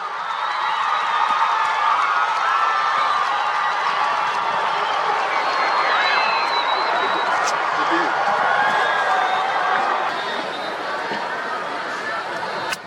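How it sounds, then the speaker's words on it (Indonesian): Crowd of scout ceremony participants gives steady, loud, dense applause at the opening ceremony of a national scout jamboree, mixed with chatter and cheering, sustained for about ten seconds before tapering off. "Mari kita sambut dengan tepuk tangan yang meriah."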